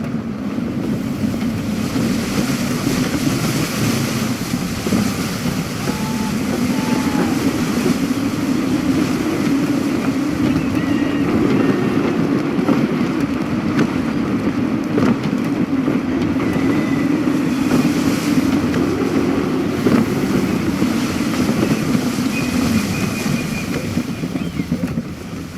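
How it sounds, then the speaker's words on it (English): A sailing ship under full sail in Assassin's Creed 3, a steady broad rush of gusty wind and breaking waves against the hull, loud and continuous without letup. "Gusty winds can be difficult to manage."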